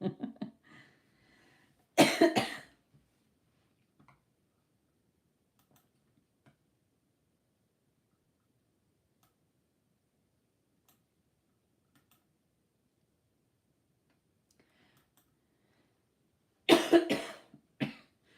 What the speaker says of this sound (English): I know I'm driving everybody absolutely potty with this cough